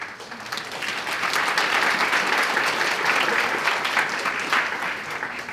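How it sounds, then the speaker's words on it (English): Sustained applause from a large audience at a university graduation ceremony, dense and steady clapping filling the whole stretch without a break, close and moderately loud. "Let's welcome each of them with a warm round of applause."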